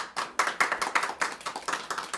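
Applause at a Turkish gathering, a small group clapping in uneven bursts, each clap crisp and close with quick irregular rhythm, no speech heard.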